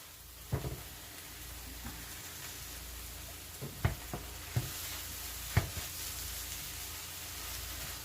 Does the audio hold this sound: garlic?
yes